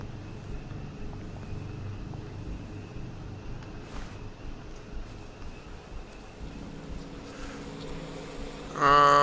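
Bees buzz in the video game We Happy Few, a steady drone woven into the game's ambient background, with a louder swell of sound at the very end.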